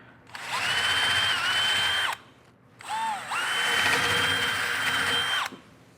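Power drill boring back into a hole during dock construction: two sustained whining runs, a short one then a longer one, separated by a brief pause, loud and close.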